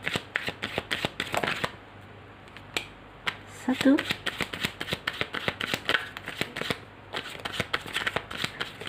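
Tarot cards being shuffled by hand in a rapid run of crisp riffling snaps, pausing briefly midway before resuming, with a voice briefly counting over it.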